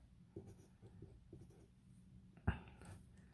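Pen strokes writing force labels on a physics diagram, quiet scratchy marks in short uneven bursts with one sharper tap, close and soft with no talking.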